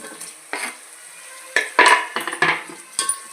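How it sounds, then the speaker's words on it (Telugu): Ripe tomatoes tipped into a pan of browned onions for a prawn biryani base, with a run of sharp clattering stirs and scraping over a soft sizzle, a few distinct knocks of the spoon against the pan. "ఇప్పుడు ఇందులో టమాటాలు వేసుకుందాము బాగా పండిన టమాటాలు రెండు వేస్తున్నాము"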